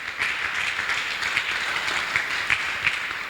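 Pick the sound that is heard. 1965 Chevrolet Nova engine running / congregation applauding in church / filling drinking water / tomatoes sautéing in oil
congregation applauding in church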